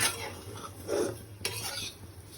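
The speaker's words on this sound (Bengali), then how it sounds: "ঘি দিয়ে একটু এইভাবে যদি সিমুইটা নেড়ে চেড়ে নেওয়া যায়" Vermicelli being stirred in ghee in a pan, a few soft scraping stirs of a spoon against the metal with a faint sizzle underneath and one brief clink, close and fairly quiet.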